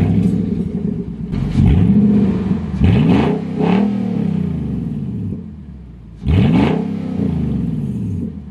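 A Nissan Titan pickup with its old exhaust removed starts up and revs loudly, close by: a deep rumble followed by three sharp revving bursts that rise and fall, with idle rumble between, and no talking.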